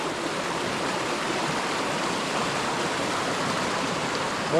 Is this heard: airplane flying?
no